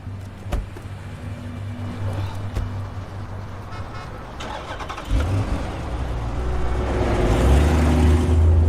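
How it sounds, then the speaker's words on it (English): A car engine cranks and catches, then settles into a steady running hum that grows fuller toward the end, with a short toot-like sound early and faint background noise. "Start the car, get the heat going."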